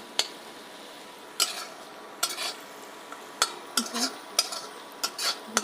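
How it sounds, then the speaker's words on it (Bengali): Rohu fish with salt, chili and turmeric stirred in a pan, giving intermittent scraping and clinking strokes from a utensil over a faint sizzle, fairly quiet and close. "এখন নাড়ে নিচ্ছি, ভালো করে মিশিয়ে নিচ্ছি লবণটা।"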